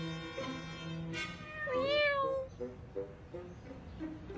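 A cat meows several times up close, a drawn-out rising and falling cry followed by shorter softer mews.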